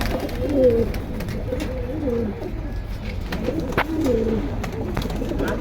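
Several pigeons coo in repeated low rolling phrases close by at a pigeon market in Keraniganj, with steady background noise and a few faint sharp knocks.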